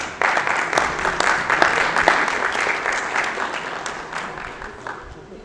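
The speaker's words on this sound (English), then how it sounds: "Please welcome Mr. Rajat with a round of applause" Audience applause at a live analytics competition event, dense clapping from a crowd that starts abruptly and holds steady for several seconds before gradually thinning, with faint voices mixed in.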